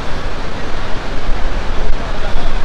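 Waterfall water rushes beneath a small bridge at Igatpuri, a dense, steady roar of broadband hiss that stays loud and unbroken throughout.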